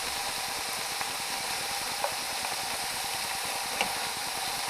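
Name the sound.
oil splattering and sizzling while cooking beef tips on high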